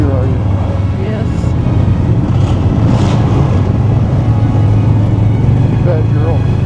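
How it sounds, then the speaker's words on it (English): A vehicle engine revs hard inside a road tunnel on the Million Dollar Highway between Durango and Ouray, Colorado, a loud, continuous, booming roar that fills the space, with voices talking over it. "You're not going to rev up your engine in here, are you?"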